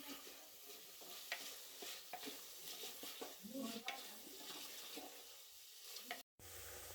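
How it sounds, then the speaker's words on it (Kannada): Finely chopped onions, three of them, fry in hot oil for an Andhra-style chicken dry roast, giving a steady close sizzle with scattered stirring scrapes and a brief dropout near the end. "ಎಣ್ಣೆ ಬಿಸಿಯಾದ ನಂತರ 3 ಸಣ್ಣಗೆ ಕಟ್ ಮಾಡಿರೋ ಈರುಳ್ಳಿ ಹಾಕಬೇಕು. ಈರುಳ್ಳಿ ಗೋಲ್ಡನ್ ಕಲರ್ ಬರೋವರೆಗೆ ಫ್ರೈ ಮಾಡಬೇಕು."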